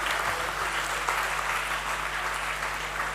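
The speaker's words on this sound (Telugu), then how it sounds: "గట్టిగా అందరూ కూడా చప్పట్లు కొడదాం." An audience at a church ceremony applauds together in a dense, sustained round of clapping that stays loud and steady throughout, with a low hum underneath.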